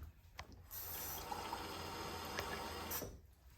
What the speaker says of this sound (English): Now then, to that, we're going to add 1 can of water.